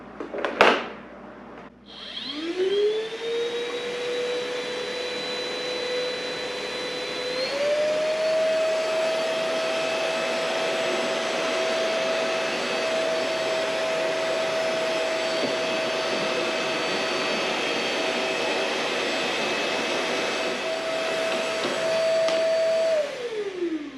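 A vacuum sucking sawdust off a workshop work surface starts with a thump, spins up to a loud, steady whine, shifts pitch slightly as it works, and winds down at the end.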